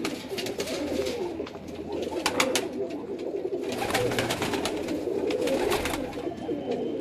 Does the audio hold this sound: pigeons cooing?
yes